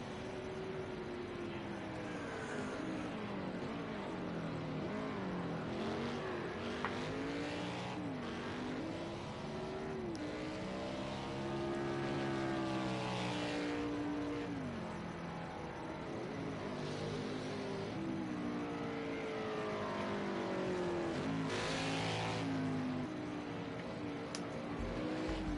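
Stock car engines in a racing video game at Circuit of the Americas, several cars droning and revving continuously, pitch rising and falling with gear shifts as they pass, a steady loud roar throughout.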